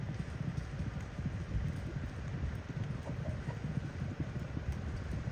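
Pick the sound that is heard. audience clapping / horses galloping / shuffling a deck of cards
horses galloping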